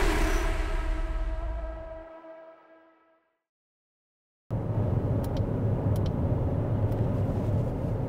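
Inside a 2024 Exeed TXL SUV on the move, a steady low cabin rumble of road and engine noise starts abruptly after a fading tone and a few seconds of silence.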